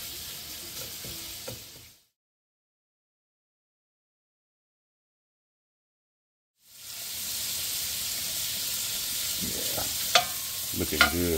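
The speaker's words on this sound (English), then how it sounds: "Oh yeah, that sizzling sounds good" Shrimp sizzling in a pan for jambalaya penne pasta, a steady hissing fry that cuts out completely for several seconds, then returns with sharp pops and stirring clatter near the end.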